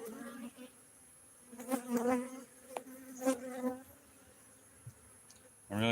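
Honey bees buzzing in a beehive around old frames, intermittent close buzzes swelling and fading as individual bees pass near, fairly faint overall.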